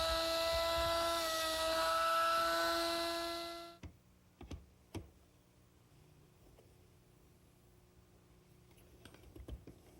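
A biscuit joiner runs with a high, steady motor whine for almost four seconds while cutting slots in wooden boards, then shuts off, followed by a few sharp clicks and knocks as the wood is handled in a quiet workshop.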